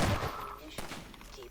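Rapid gunfire in Half-Life 2 on a custom map, a burst of several loud, sharp shots right at the start followed by lighter, fainter shots, with a voice shouting over the action.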